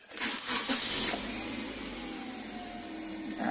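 A car engine cranks and catches for an idle air control valve test, a short starter whir and surge in the first second, then settling into a steady cold-start idle with a high, even hum.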